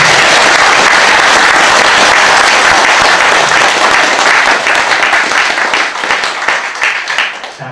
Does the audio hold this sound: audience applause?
yes